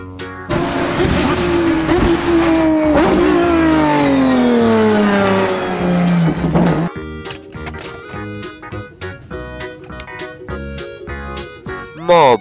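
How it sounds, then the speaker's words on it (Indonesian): A racing car engine revs hard. Its pitch sweeps down over several seconds before it switches to choppy, rhythmic bursts, all loud and close with no speech. "Mobil, balap."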